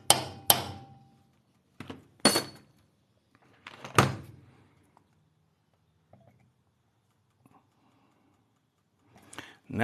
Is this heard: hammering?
yes